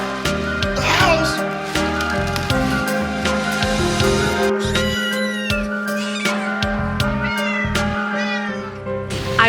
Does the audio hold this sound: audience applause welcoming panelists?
no